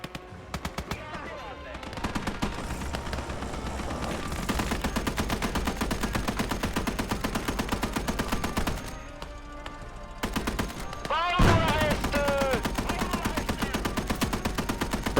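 Sustained bursts of Browning .50 cal machine gun fire in the World War II video game Gates of Hell, loud and rapid with a steady rhythm across the whole stretch and a short lull near the end; a voice speaks briefly over it.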